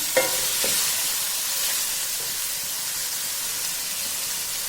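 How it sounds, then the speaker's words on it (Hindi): Capsicum frying in a pan for vegetable and egg fried rice, a steady loud sizzle and hiss with a few clinks of stirring near the start, no voices. "अब हमने कैप्सिकम भी ऐड कर दिए हैं और इसको भी तकरीबन 20 to 30 मिनट ही हमने इसको थोड़ी फ्राई करना है"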